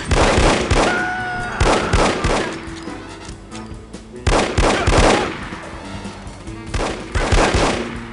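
Loud, close bursts of gunfire from the old first-person shooter No One Lives Forever, sharp repeated shots in clusters with brief lulls, plus a short electronic tone early on.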